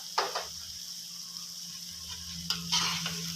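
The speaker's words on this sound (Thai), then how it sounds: "อ่าเราก็คั่วไปเรื่อย ๆให้มันแห้งนะครับใช้ไฟแรงหน่อยนะครับ" Minced pork stir-fried dry in a hot pan over high heat, a steady broadband sizzle with a few louder scraping stirs near the start and end, for a spicy dried-chili basil squid and pork dish.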